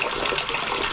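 Maize kernels being washed in a basin of water, giving a steady, close sloshing and trickling wash with no clear breaks over the short stretch.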